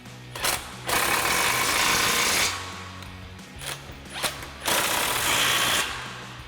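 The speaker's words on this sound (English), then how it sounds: "a 19mm socket on our impact to tighten these down" An impact wrench fitted with a 19mm socket tightens suspension bolts during a 2-inch lift kit install on a 2021-2025 Ford Bronco. Several loud rattling bursts of about a second each are separated by short pauses and quieter clanks.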